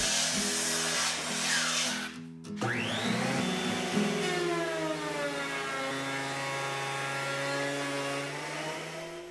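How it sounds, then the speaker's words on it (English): A handheld electric planer whines as it bevels the corners of cherry wood, a high motor drone with a rasping cut and a brief drop in pitch partway through, steady and close. "This little handheld planer does a great job of making bevels on corners."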